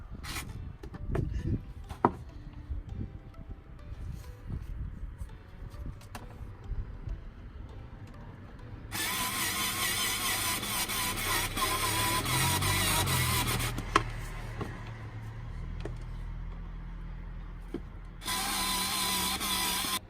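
A Pipercross air filter being tightened during installation gives a close mechanical ratcheting whir in long bursts, with clicks and handling knocks before and between them.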